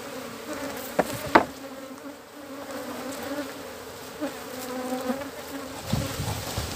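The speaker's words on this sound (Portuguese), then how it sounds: "Esse aqui é a abelhinha do balde, né? Foi capturada no balde." Honey bees from a bucket-caught swarm buzz steadily at a hive being prepared for honey production, a continuous close drone with a few sharper bumps and knocks.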